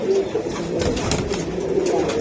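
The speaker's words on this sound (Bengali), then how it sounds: "একদম সুস্থ কবুতর" Racing pigeons coo continuously in low, throaty tones, with a steady background hum and no voices.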